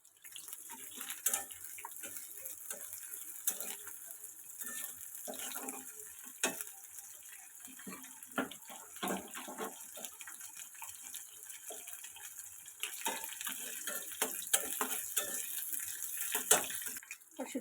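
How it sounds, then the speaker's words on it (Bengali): Dried fish frying in hot oil in a pan for a potato and pointed gourd curry, a steady close sizzle with crackling pops and spurts that grow busier toward the end. "তো শুটকি মাছগুলোকে আমি তেলের মধ্যে খুব ভালোভাবে ভেজে নিতেছি।"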